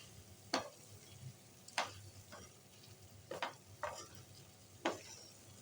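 Raw mango chutney ingredients roast in a pan, faint and quiet, with a few sharp spatula scrapes and taps spaced over a soft low sizzle.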